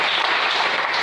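A church congregation applauds the Lord with steady, dense clapping that fills the space evenly throughout.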